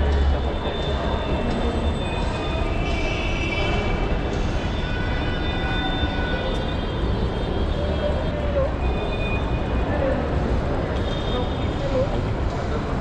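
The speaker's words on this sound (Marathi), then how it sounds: "मित्रांनो, आपण आता स्वारगेट मेट्रो स्टेशन इथे आलो आहोत." A Pune Metro train at Swargate metro station gives a loud, continuous rumble with faint high whining tones above it, steady from start to finish.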